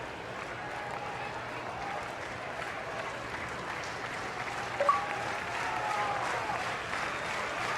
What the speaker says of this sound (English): The rhythmic clapping of the LSU crowd in the background got in on him